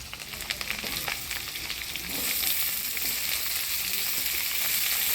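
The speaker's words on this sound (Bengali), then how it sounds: "ফোড়নের তেলে আলুটা ভালো করে নাড়াচাড়া করে নিলাম এবার দিয়ে দিব ডাটা" Potatoes and vegetable stems stir-fry in hot spiced oil with a loud, continuous sizzle and crackle, broken by scraping stirs, and the frying grows louder and brighter partway through.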